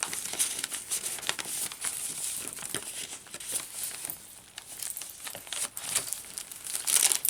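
Paper bag crinkles and rustles as it is handled close up, with irregular crisp bursts of crackling and crumpling throughout and no voices.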